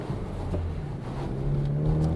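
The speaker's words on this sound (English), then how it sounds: "My perception of the exhaust presence at this point is a good performance sound. It's sporty performance, not obnoxious." A Chevrolet Camaro with the four-cylinder engine and an MRT Version 3 cat-back exhaust cruising on the road: a steady, low exhaust drone blended with tire noise, rising slightly toward the end.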